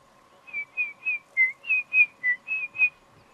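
A person imitates the call a bird makes in flight, known locally as Manteveni, with about nine short, clear whistles in an even rhythm against a quiet background.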